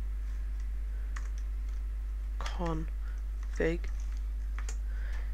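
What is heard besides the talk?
typing on a computer keyboard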